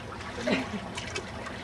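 A child kicking in a swimming pool, making short splashes and trickling water close by, fairly soft and brief, with a voice heard nearby.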